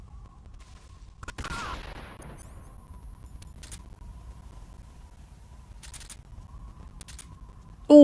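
A single sharp Mosin rifle shot in Metal Gear Solid 3 with a ringing tail in a jungle setting, followed by faint isolated clicks and another crack at the very end, in near silence otherwise.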